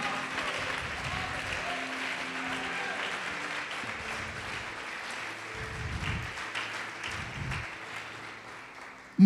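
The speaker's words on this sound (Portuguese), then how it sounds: "Pode aplaudir, glorificar a Deus, irmão." A church congregation applauds steadily for several seconds, a dense continuous clatter of many hands in a reverberant hall, with low voices murmuring underneath.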